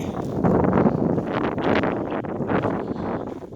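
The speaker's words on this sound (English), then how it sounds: "And it's windy. Very windy today." Strong wind buffeting the microphone in loud, rumbling gusts at an old mining site in the Blanchard mining district, blustery and continuous throughout.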